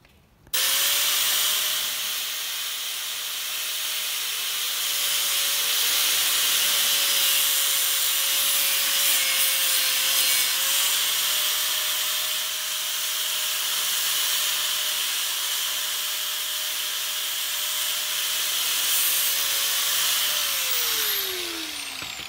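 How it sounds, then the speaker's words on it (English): A grinder fitted with a fine cutting disc slices through a rubber strip for a roof rack, a loud continuous whine and hiss that holds steady for about twenty seconds before winding down at the end. "As you can see, grinder gives it a nice clean cut, and you can do that for the rest of the steps."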